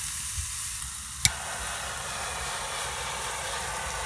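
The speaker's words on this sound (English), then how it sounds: "I actually have a torch and an extra propane cylinder here that we're going to use to go ahead and brown the top of that" A handheld propane torch browning the top of a taco pie outdoors in a parking lot: a steady hissing, roaring rush of flame, close and fairly loud, with a sharp click partway through as it catches or is adjusted.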